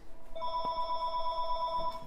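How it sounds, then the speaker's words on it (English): A telephone rings with a bright electronic warble, a steady sustained ring lasting nearly two seconds, loud and close with no voices over it. "The phone is ringing."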